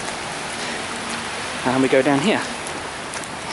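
Pouring rain falls steadily on a wet lane in a village of cottages near a cricket club along the North Downs Way, a constant hiss throughout, while someone briefly speaks in the middle.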